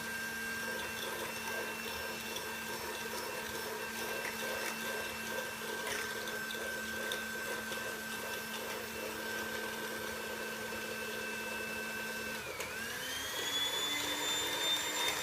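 A steady electric mixer whirring continuously at close range while whisking dalgona coffee mixture, the motor pitch rising as it speeds up near the end.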